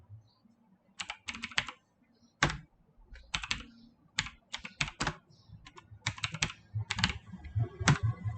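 Keystrokes on a computer keyboard while names are entered into an Excel spreadsheet, arriving in irregular bursts of quick taps separated by short pauses, close and moderately loud.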